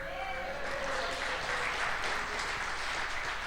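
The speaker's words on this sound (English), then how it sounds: "Are you clapping for my wife or for me?" Clapping from a church audience fills the room in an even, dense wash, continuous and steady throughout with no pauses or speech.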